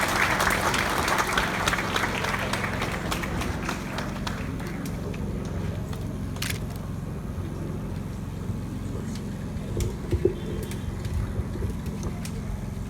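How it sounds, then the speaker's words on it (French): Audience applause at a school inauguration ceremony for an agricultural technical high school, a dense steady clatter of many hands that fades gradually and turns scattered toward the end. "Je vous demande d'applaudir ce geste pour nous, s'il vous plaît."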